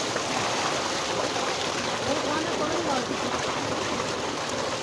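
Cold water gushes steadily from a tube well while people bathe, a loud, continuous rushing flow that fills the whole stretch with no break.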